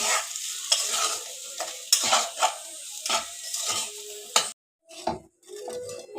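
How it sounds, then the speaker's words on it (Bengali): Egg and chowmein noodles are stir-fried in a pan, rhythmic spatula scrapes and clanks over a crackling sizzle, close and fairly loud with a short pause midway and no speech. "এটা একটু ভাজা ভাজা করে নেব, তারপরে আমি চাউমিনগুলো দিয়ে দেবো এর মধ্যে।"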